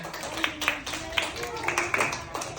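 A small group, likely children at a school quiz contest, claps for the semi-finalists. A few bursts of claps mix with talking voices close by.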